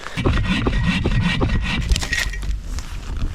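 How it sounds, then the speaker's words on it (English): Dry firewood being gathered and broken by hand in a freezing, rainy forest: close, dense rubbing, scraping and cracking of sticks in quick irregular snaps, with no voices. "So we're gonna go get some firewood."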